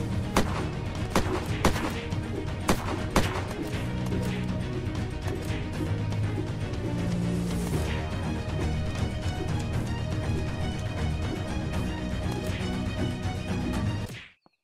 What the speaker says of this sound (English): there's people shooting in Seattle right here